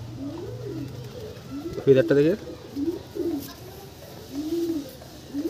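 Pigeons at a loft sale coo in short, low bursts, strongest around the two-second mark and softer afterward, beneath someone talking close by.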